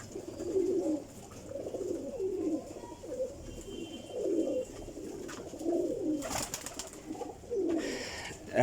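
Sialkoti female pigeons coo in a repeated, soft rhythmic series of low burbling calls, fairly close and fairly quiet, with a brief rustle or flutter partway through and no talking.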